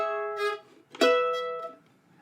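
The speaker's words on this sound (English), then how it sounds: "Playing measure 14 sounds like this." A mandolin plays a short syncopated phrase from a bluegrass tune, with two bright strummed chords ringing out clearly and decaying, close and alone without voices.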